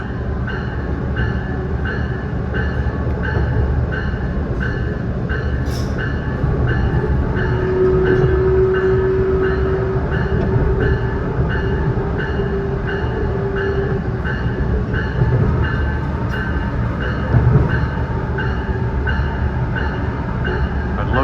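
A Metra Electric commuter train rolls past at steady volume, a continuous rumble and rail hum with faint rhythmic wheel clatter throughout, close and dominant with no voices.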